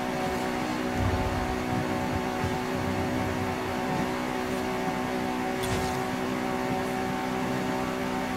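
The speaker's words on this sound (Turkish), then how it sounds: "Bu arabanın yeri gerçekten otoban." Engine of a Ferrari F50 tuned to 1000 horsepower in the racing game Forza Horizon 5, a steady loud drone at high speed on a motorway, holding a continuous rev with slight swells and no talk.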